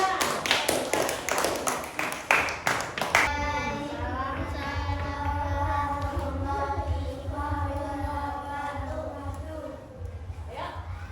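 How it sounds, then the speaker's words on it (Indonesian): A classroom claps for a group of students: a few seconds of rhythmic, fairly close hand claps, then a teacher speaks over faint room noise. "Tepuk tangan untuk kelompok 3."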